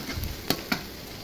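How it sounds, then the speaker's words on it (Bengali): Chopped onion and onion greens frying in a pan, a low steady sizzle with two brief stirring clacks, close and fairly quiet. "এখন পেঁয়াজ পাতা দিয়ে দিব। পেঁয়াজ কুচি দিয়ে দিব। একটু ভেজে নিব।"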